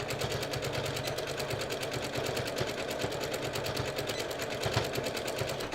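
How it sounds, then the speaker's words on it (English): A sewing machine zigzag-stitches the fabric edge of a bag being rehabbed, a fast steady mechanical chatter that runs throughout, even and fairly quiet, with no talk. "I'm just squeezing them together and zigzagging them shut to stabilize it"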